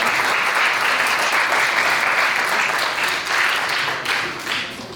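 A live audience at a Punjabi literary event in Faisalabad applauds, a loud, dense wash of clapping that holds steady and then tapers off unevenly toward the end.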